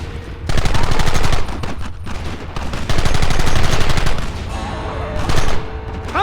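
Dense gunfire in the Western shootout game Red Dead Redemption, loud continuous volleys of rifle and pistol shots crackling in rapid bursts with brief lulls.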